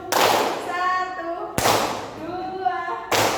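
A classroom of students claps together in sharp collective bursts, each one ringing briefly in the room before the next, with a teacher's voice heard between the claps.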